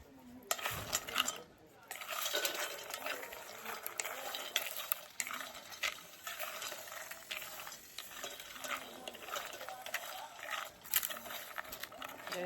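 Homemade organic cocoa being stirred in a pot during outdoor cooking, with scraping and clinking of a utensil against the pot, fairly close and continuous, over a steady background of outdoor noise.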